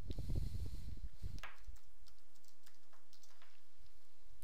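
Quick typing on a computer keyboard, a run of light, close key clicks following a brief louder rustle at the start, with no speech.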